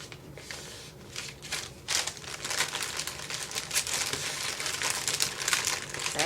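A paper inventory sheet being folded up, giving close, continuous crinkling and crumpling with sharp creasing bursts throughout, alone with no talking.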